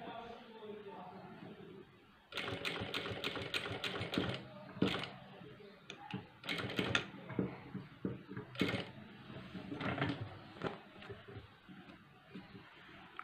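A sewing machine stitching a placket runs in bursts of rapid mechanical ticking, stopping and starting, close and clear while a person talks over it.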